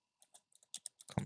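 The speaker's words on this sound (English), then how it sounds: "I could just type it directly in here." Someone types on a computer keyboard: a quick, close run of about ten crisp key clicks, growing slightly louder and denser toward the end.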